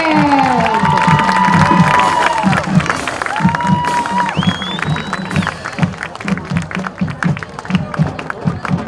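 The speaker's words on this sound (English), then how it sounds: "please put your hands together for the 2023 Hillsdale Falcon Marching Band!" A crowd in the stands cheers, whoops and claps for a high school marching band at an Ohio high school football game, with steady loud roaring and shouts and a few whistles cutting through.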